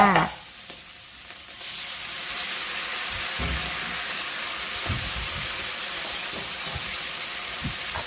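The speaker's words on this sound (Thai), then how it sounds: "แล้วก็ผัดไปค่ะ" Roasted chili paste sauce with canned clams being stir-fried in a pan, giving a continuous loud hissing sizzle broken by a few dull knocks of the spatula.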